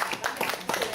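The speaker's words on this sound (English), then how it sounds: "give this guy a round of applause" A comedy club audience applauds an army veteran, a brief, steady wash of clapping that sounds loud and close throughout.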